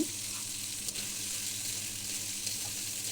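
Beans, potato and eggplant sizzle steadily in hot oil in a pan, a bright, even crackle that holds throughout without pause or talk.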